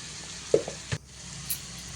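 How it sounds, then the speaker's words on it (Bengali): Spices with salt, turmeric and Kashmiri chilli powder fry in oil in a pan, a steady soft sizzle with a couple of brief stirring knocks and scrapes, no voice. "ভালো করে একটু ভেজে নেবো"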